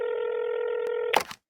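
Telephone keypad dialing tones: a steady tone holds for about a second, then a brief burst of quick clicks and tone changes as the number is dialed, close and clean with no voices.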